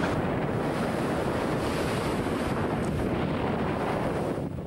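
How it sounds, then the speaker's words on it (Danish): A storm at sea lashes a small sailboat on a solo non-stop round-the-world voyage, with steady roaring wind and crashing waves forming a dense, loud, unbroken wash of noise. "To døgn raser stormen"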